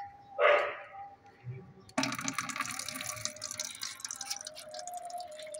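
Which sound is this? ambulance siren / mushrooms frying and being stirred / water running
water running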